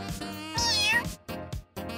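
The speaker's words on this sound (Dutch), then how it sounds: "De katten voeren?" Cats meow in a few quick, close, fairly loud bursts, with higher cries rising and falling over about two seconds.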